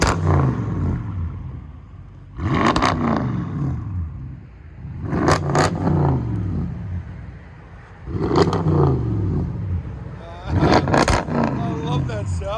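A 2015 Audi S7 with a 4.0L twin-turbo V8 and dual straight-pipe exhaust, mufflers and resonators removed, revs in four sharp, loud bursts, each dropping back to a rumbling idle in between.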